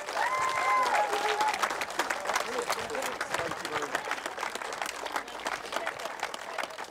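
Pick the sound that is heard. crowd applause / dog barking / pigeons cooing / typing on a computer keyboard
crowd applause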